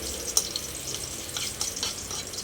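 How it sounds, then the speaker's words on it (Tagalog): Garlic sautéing in a pan, a soft steady sizzle with faint crackles and a couple of sharper pops, close and continuous with no talking. "Gisa-gisahin ng bawang hanggang lumabas yung kanyang aroma"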